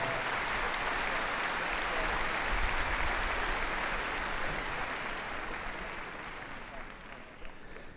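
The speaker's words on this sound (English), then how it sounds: "If you could give Penny and Clover, of course, a huge round of applause." An arena audience at Crufts dog show applauds a guide dog display, steady broad clapping throughout, with some voices mixed in, gradually easing toward the end.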